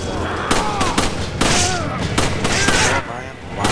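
Gunfire in the Resident Evil 5 co-op game: a rapid run of sharp, loud shots and booms in quick succession over game noise, with no one talking.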